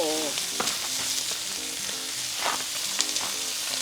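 Steady loud sizzling of pork belly frying in a hot pan outdoors in a yard, close up, with faint clinks and stirring sounds.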